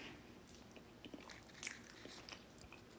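Someone bites into and chews a peanut butter protein powder muffin made with Quaker oats, giving soft, close crunchy bites and moist chewing over about three seconds with no talk.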